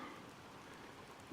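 Steady rain falls on a fall day in the North Shuswap, heard as a faint, even patter and hiss with no voices.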